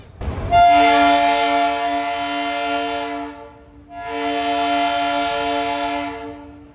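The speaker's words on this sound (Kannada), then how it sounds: "ಟ್ರೈನ್ ಮಾತ್ರ ಬಂದೇ ಬಿಡ್ತು ನೋಡ್ರಿ" A train arrives with two long, loud horn blasts, separated by a brief pause, over a low rumble.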